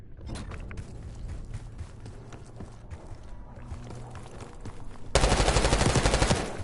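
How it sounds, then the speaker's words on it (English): Gunfire in the Black Ops 6 campaign crackles at a distance in scattered shots, then breaks into a sudden, loud, sustained automatic burst near the end. "You hearing gunfire?"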